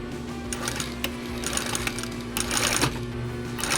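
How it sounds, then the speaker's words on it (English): A sewing machine stitches the hemline of fabric shorts with a fast, steady mechanical chatter and a faint motor hum, close and continuous. "Just starting at the bottom of that hemline,"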